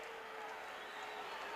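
A wrestling arena crowd roars in approval, a steady dense wash of cheering and noise from many voices that stays at an even level throughout.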